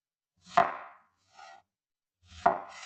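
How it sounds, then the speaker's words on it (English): Ripe tomatoes are sliced with a knife in a kitchen: two sharp cuts through the fruit onto a board, with a softer brief sound between them, close and clear with no talking. "I slice ripe tomatoes."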